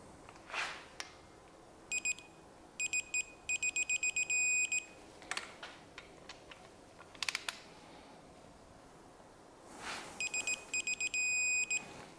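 An electronic torque wrench on a BMW beeping as it reaches the 50 mark, several bursts of rapid sharp beeps separated by pauses, close and clear over faint clicks and handling noise.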